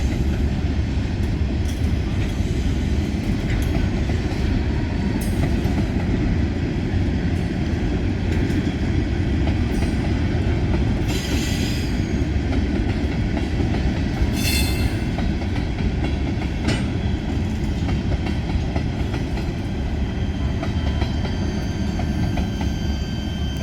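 Long Cincinnati Eastern Railroad freight train with gondolas passing on the old Norfolk and Western Peavine line, a loud continuous rumble of rolling cars with scattered wheel clicks and faint squeals throughout.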